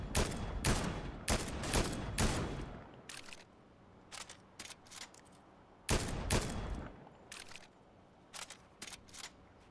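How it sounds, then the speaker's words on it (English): Repeated bursts of gunfire ring out in the video game Fortnite, some sharp single shots and some rapid clusters, fairly close and loud, spaced irregularly across the scene. "Who's shooting at us?"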